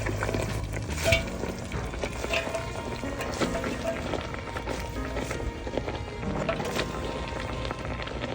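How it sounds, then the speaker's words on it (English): Collard greens drop into a pot of cooking turkey tails, giving rustling, splashing and stirring noises over a low simmer, with a few sharper knocks of the leaves and utensil against the pot. "be sure to drop your greens in like this right here"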